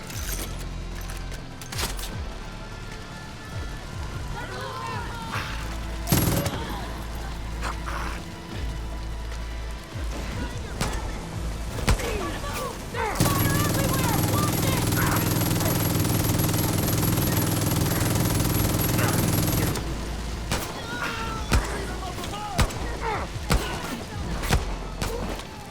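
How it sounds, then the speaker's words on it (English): Gunfire in Far Cry New Dawn: scattered sharp shots and clatter over a busy mechanical game background, with a loud sustained droning noise swelling through the middle and isolated cracks continuing near the end. "Who's shooting me?"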